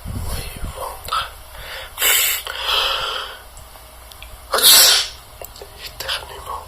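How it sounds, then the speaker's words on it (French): Two sharp sneezes, the second louder, separated by breathy noise and faint background sounds, close to the microphone. "Éternuement."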